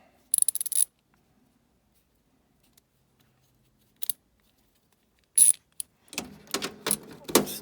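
A Klein 27N1 stubby ratcheting screwdriver clicks in short, close bursts with pauses between them, then turns more continuous near the end, during repair work on a Trane heat pump system.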